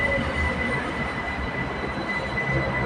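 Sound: BTS Skytrain Silom Line train wheels squealing

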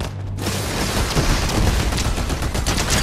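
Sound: gunfire in a shooting video game

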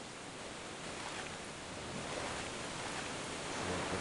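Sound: waterfall in the video game Gothic

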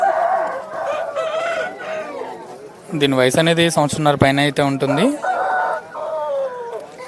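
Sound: rooster crowing at Vijayawada rooster market

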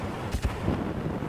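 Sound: gunfire in a video game

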